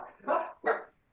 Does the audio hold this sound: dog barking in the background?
yes